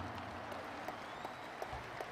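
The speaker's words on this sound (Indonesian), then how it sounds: "Kita berikan tepuk tangan untuk Ketua Umum Partai Demokrat, Mas Agus Harimurti Yudhoyono." Faint applause from a crowd at an Indonesian political event, a soft steady patter of clapping with a few sharper claps standing out.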